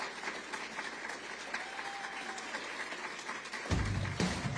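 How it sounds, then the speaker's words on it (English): An audience at a public speech by a former US president gives a round of applause, a steady wash of distant clapping that swells with a few heavier thumps near the end. "a big round of applause"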